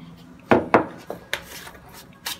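A spoon stirs butter into crushed cookies in a bowl, making a few close, sharp clinks and scrapes at an uneven pace.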